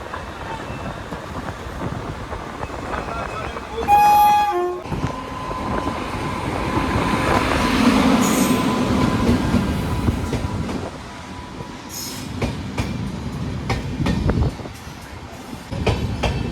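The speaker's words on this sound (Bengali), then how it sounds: "বন্ধুরা, এটা বেরোচ্ছে হাওড়া জয়নগর এক্সপ্রেস" Howrah–Jaynagar Express train pulling out of the station, a steady rumble of rolling wagons with a brief loud tonal horn-like burst near the start and rattling clatter throughout, close and sustained.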